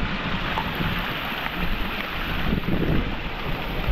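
Strong monsoon stream near Ghangad Fort rushing past in a dense, constant churning roar, close and loud, with gusty wind noise mixed in and no speech.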